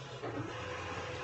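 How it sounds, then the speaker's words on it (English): A Silhouette cutting machine slices out journal cards, giving a steady, close mechanical whir with a low motor hum throughout a short stretch, no voices. "Right now the machines are cutting out the journal cards that I make."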